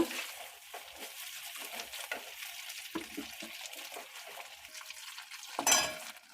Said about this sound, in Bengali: আলুটা আমার মোটামুটি ভাজা হয়ে এসেছে।